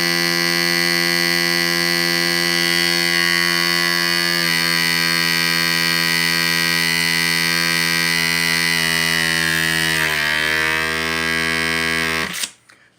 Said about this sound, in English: This little food saver vacuum sealer